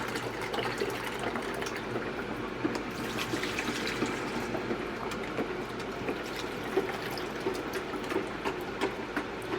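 Water is poured into the food-grade plastic tank of a 3-liter VEVOR commercial slushy machine for a rinse, giving a steady splashing, trickling wash with small irregular gurgles and no talk.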